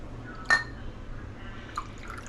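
Water pours into concentrated somen dipping sauce in a close, quiet kitchen. A brief splashing pour comes at about half a second, followed by a single softer drip.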